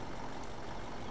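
A combine harvester engine in Farming Simulator 17 runs with a steady, loud, droning rumble and a hissing broadband roar, constant throughout.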